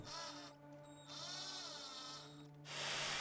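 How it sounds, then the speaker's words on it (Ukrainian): A power drill with an engraver bit whines at high speed shaping a piece of slipper foam, its pitch dipping and rising as it works, ending in a louder, harsher grinding burst. "Далі в дрилі на високих обертах і гравером придаємо форму"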